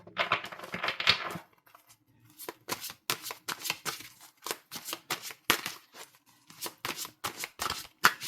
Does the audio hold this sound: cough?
no